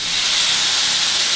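Tempeh tossed with oil and salty soy sauce sizzles steadily in a frying pan, a loud, continuous hiss with no pauses and no voices.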